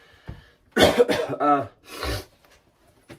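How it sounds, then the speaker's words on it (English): A few harsh coughs close to the mic, a quick burst followed by a couple more, with quiet breathing around them and no talking. "Apologies for the coughing."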